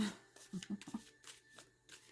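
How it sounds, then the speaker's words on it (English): Tarot cards being shuffled by hand, a few quiet, close papery flicks and slides in short uneven bursts, with brief soft speech. "These cards are really hard to shuffle"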